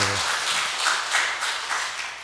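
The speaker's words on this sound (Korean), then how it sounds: "하나님께 영광의 박수." Church congregation at a worship service breaking into applause, a steady wash of many hands clapping together, fairly loud and close, sustained for a couple of seconds with no talking over it.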